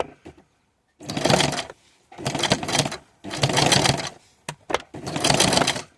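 A sewing machine stitching leatherette runs in four loud, close bursts of rapid mechanical whirring with short pauses between them, plus a couple of brief clicks near the end.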